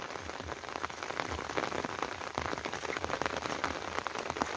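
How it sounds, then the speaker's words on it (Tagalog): Steady heavy rain pours down alongside strongly flowing runoff water on a damaged path, a dense, continuous hiss with scattered drop impacts and no voices. "Kasi hindi huminto yung ulan."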